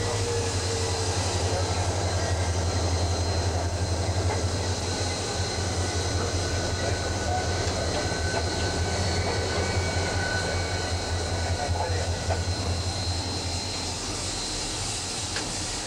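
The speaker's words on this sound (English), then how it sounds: "a pair of diesels pull the passengers on into Hempton" A pair of diesel locomotives pull a passenger train into Hempton, a steady low engine rumble and rolling rail noise that holds at an even level throughout, heard from a distance with no breaks.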